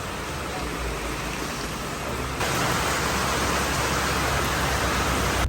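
Rain falls steadily in Goa, a dense even hiss that grows slightly louder partway through, close and continuous.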